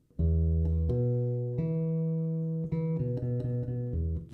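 An electric bass played through its other pickup gives a more nasal, tighter tone, a run of clear sustained notes played alone, quiet overall with no voice.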